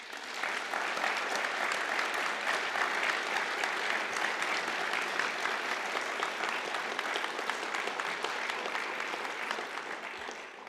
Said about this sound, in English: I want you, our new graduates, to give a warm round of applause to your families, friends, and supporters.